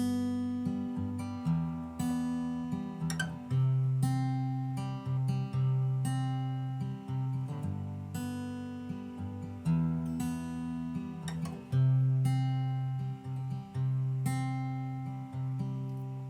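A guitar plays the slow chord progression of a song, each chord strummed and left to ring before the next, clear and close with no voices.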